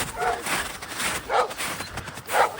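Several dogs, four or five of them, bark and yip in a bad-weather outdoor setting, three distinct bursts spaced about a second apart, moderately close with a rough background wash.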